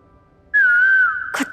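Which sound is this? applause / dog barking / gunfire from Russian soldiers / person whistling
person whistling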